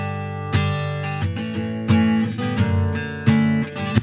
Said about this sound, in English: Almost sounds like a robotic acoustic guitar